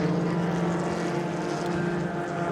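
An Alfa Romeo four-cylinder engine in a Formula 3 race car at Silverstone drones steadily at mid distance, a continuous buzzing hum with no clear revving changes and no talk over it.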